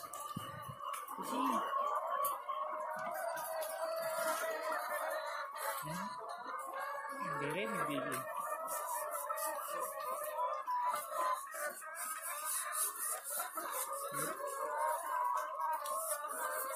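Laying hens cluck and call continuously inside a coop, a dense flock chorus with occasional louder squawks and a rooster-like crow standing out, steady and fairly loud throughout.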